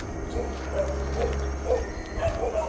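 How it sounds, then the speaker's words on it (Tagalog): Several dog barks at a distance, spaced irregularly over a steady low rumble of outdoor background noise. "Kami po binabatok ng mga aso."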